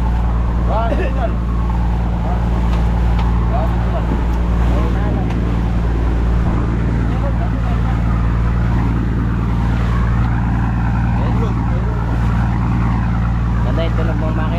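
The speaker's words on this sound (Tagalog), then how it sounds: "Ganda yung tunog ng makina." A loud boat engine drones steadily throughout with a constant low hum, while voices talk intermittently over it.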